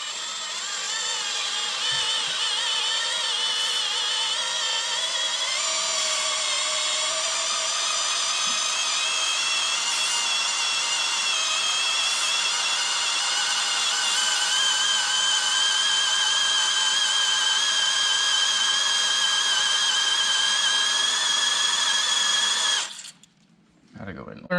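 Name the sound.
drilling out stripped lug nut with lug nut reamer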